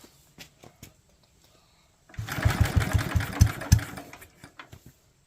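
A Locke reel lawn mower engine being cranked: quiet clicks and handling noises, then a close burst of rapid, rhythmic chugging turnover lasting about two seconds before it stops without catching.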